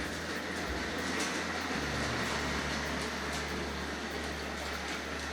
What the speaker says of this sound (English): just that little bit of a climb takes the edge off the performance of the locomotive